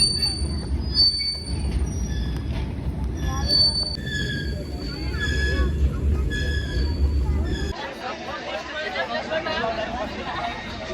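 A train rolls into a station platform, its wheels squealing in long shrill tones over rumbling carriages, with crowd chatter and voices mixed in.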